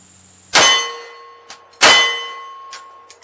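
Two sharp, ringing metallic clangs from bullets striking a steel target, each decaying with a long tone, with fainter smaller clanks between as the plate spins.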